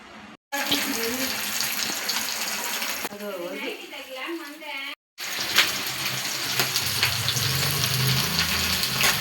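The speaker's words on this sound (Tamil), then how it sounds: "இப்போ மீன் வறுக்க ஸ்டார்ட் பண்ணிடலாங்க." Fish pieces for a ghee fish fry crackle in a hot pan, a dense, steady sizzle with a brief drop-out near the start and another around five seconds, voices briefly audible in the middle.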